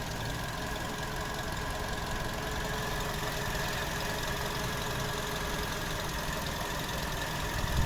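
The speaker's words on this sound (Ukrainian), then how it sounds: "Ось робота двигуна." A 2009 VW Golf V 1.6 MPI petrol engine idles evenly and smoothly, a steady low hum with faint ticking, heard close up without talk.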